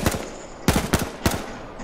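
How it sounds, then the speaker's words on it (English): Gunfire in the video game H1Z1 Battle Royale: a few sharp shots ring out, single and in short rapid bursts, fairly close and punchy. "Give them some cover fire."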